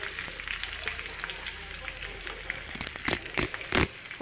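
Coarsely crushed garlic cloves frying in hot oil for lemon rice, a steady close sizzle with crackling pops that grow sharper and louder toward the end.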